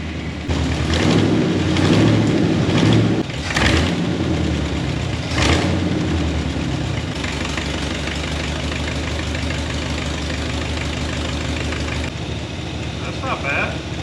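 Hot rod engine idling after its carburetor idle mixture screws were adjusted, a steady low rumble with a few sharp knocks and bursts early on, then settling into an even idle.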